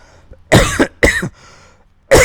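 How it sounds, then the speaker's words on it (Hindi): Harsh, close coughs: two in quick succession, then another starting just as the clip ends. "थोड़ा सा बोलने में भी मुझको खांसी आ रही है"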